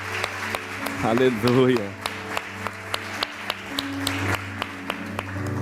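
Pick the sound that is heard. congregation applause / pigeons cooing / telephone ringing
congregation applause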